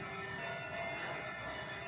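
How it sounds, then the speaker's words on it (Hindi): Temple bells ring during evening aarti in a dark village, heard as a steady, distant metallic ringing with sustained tones that blend into a continuous wash, no one speaking. "मंदिरों में घंटी बजती हुई, आरती होते हुए"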